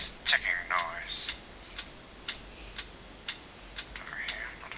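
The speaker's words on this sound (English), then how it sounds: "What is that mysterious ticking noise?" A mysterious ticking sounds in a puppet show, with crisp, regular ticks about every half second, preceded by a short burst of a voice at the start.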